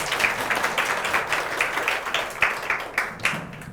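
A modest group of listeners claps to welcome a teacher at a lecture session for instructors, with fairly loose, moderate-level clapping and no one talking over it.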